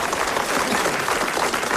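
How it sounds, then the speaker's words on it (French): Studio audience applauding during a French radio comedy show, a steady dense wash of clapping that fills the short stretch without pause. "Et vous applaudissez en ce moment Monsieur Sèvres-Gland de Donville-les-Bains."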